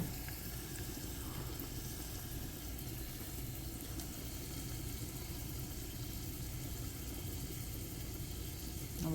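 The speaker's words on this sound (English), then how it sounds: "you see my picadillo here is still boiling in there, nice and easy" Picadillo bubbles gently in a pan on the stove, giving off a steady, even sizzle and simmer with no talking over it.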